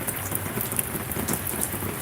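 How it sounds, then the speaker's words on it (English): Heavy rain pours steadily on a busy street in downtown Los Angeles, a dense continuous hiss with scattered splashy drops and no voices. "wait for this rain to see if it'll slow down just a little bit"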